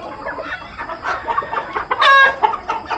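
White-legged farm chickens cluck close by in a busy overlapping chorus, with one louder drawn-out squawk standing out near the end.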